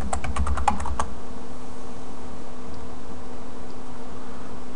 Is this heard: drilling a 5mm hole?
no